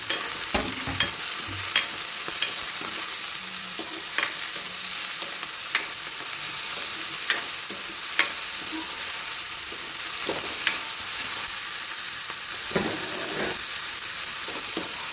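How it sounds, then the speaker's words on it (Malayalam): Onion, green chili and curry leaves sautéing in a pan, a steady close hiss and sizzle throughout with scattered scrapes and taps of stirring. "നമ്മൾ എടുത്ത് വെച്ചേക്കുന്ന ഉള്ളി പച്ചമുളക് കറിവേപ്പില ഇത്രയും അങ്ങോട്ട് ഇട്ട് കൊടുക്കുക ഇത് നല്ലതുപോലെ വഴവണം"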